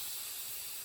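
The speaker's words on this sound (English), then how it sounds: "I'm just going to spray it with my little spray bottle." A small spray bottle mists water onto a paper towel in one close, steady hiss that cuts off abruptly after under a second.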